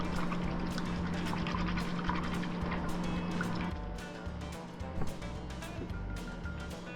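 Milk poured into a bowl of egg whites, cinnamon, sweetener, nutmeg and vanilla for French toast, a steady liquid pour over a low hum, with light clinks and drips after it stops.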